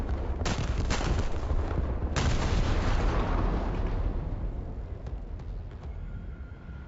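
Naval guns firing in War Thunder: a few heavy, booming shots with sharp onsets, each followed by a long rumbling roll that slowly fades, then lighter distant pops trail off.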